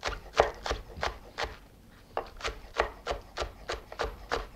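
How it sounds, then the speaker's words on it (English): Knife chopping green onion on a cutting board in a kitchen, a steady run of about a dozen crisp, evenly spaced chops with a brief pause near the middle, close and clear. "then chop the green onion"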